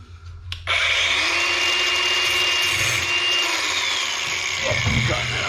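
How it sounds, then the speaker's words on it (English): An angle grinder notching a piece of metal for a tucking fork whirs up abruptly and holds a loud, steady high-pitched grinding whine close by for several seconds. "I'm just going to notch that with the angle grinder"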